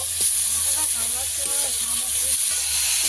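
Turmeric and chili powder fry with a splash of water in a pan for a pakal (eel) fish curry, giving a steady loud hiss and sizzle throughout, with a faint voice murmuring underneath.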